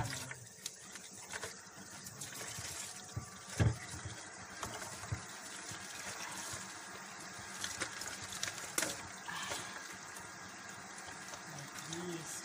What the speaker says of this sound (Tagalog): Hugasan natin na maayos. Yung mga gulay.